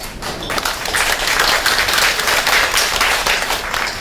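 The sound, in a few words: audience applause for Regina Ip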